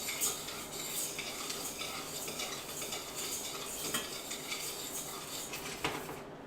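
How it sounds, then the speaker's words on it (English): Rice being stirred in a pot for a seafood gumbo meal, a steady close scraping and clinking of utensil against the pot with faint sizzling underneath, continuous for several seconds without talk. "I'm gonna quickly whisk the rice, or stir the rice."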